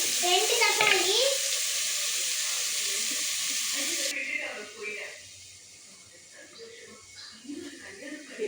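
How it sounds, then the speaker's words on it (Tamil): Two chopped tomatoes frying in a pan during the making of an egg roast, with a loud, steady sizzle for the first few seconds that then drops to a softer crackle with light stirring, and a voice faintly in the background. "தக்காளி நல்லா கட் பண்ணி போட்டுக்கணும்."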